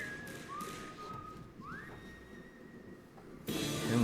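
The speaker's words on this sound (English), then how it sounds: "Him whistling the theme is wild." A Destiny 2 character whistles the game's theme melody, clear sustained tones sliding between pitches over a soft ambient music bed, with a louder swell entering near the end.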